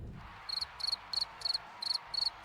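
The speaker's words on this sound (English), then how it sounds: "And crickets for Bret the Hitman Hart as he comes out for the first time." Crickets chirp at a wrestler's entrance in the WWE 2K MyGM video game, seven evenly spaced bursts of rapid high trills over a quiet low hum, with no voices.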